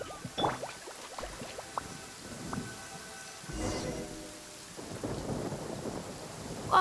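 Distant thunder in the video game Genshin Impact rumbles over steady falling rain, with a few deeper rolls swelling and fading in the background.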